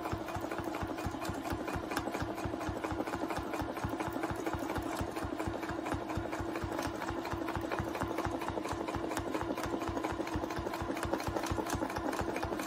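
A sewing machine stitches free-motion meander quilting at a slow, even pace, its needle beating in a steady, fast mechanical rhythm with a low motor hum, close and continuous with no talking.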